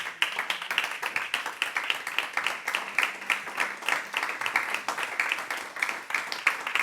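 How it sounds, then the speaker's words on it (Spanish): A church congregation at a Sunday service claps in rhythm, sharp repeated hand claps falling in a quick, steady beat at moderate distance, unbroken for several seconds. "Dele un aplauso al Señor."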